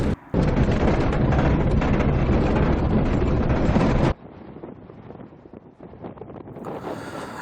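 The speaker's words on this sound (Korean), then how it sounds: "모래바람이 강하게 불어서 비디오 촬영이 어려울 만큼 많이 흔들렸습니다" Strong sandstorm wind in the Syrian desert near Palmyra buffets the microphone with loud, roaring gusts for about four seconds, then drops to a softer, ragged rush with scattered thumps.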